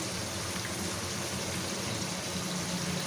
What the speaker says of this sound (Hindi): इसमें थोड़ा पानी डालेंगे